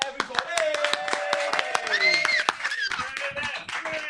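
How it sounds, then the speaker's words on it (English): Audience applause for comedian Rob Deb at a comedy show: dense, steady clapping with sharp individual hand claps, mixed with cheering voices and a whistle-like tone running under it. "please go all crazy with all the applause you can muster using both your hands"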